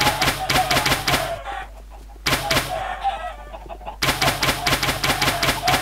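Chickens spawned in masses in a video game chicken bunker cluck rapidly in loud repeated bursts, with a brief lull midway before the dense clucking returns.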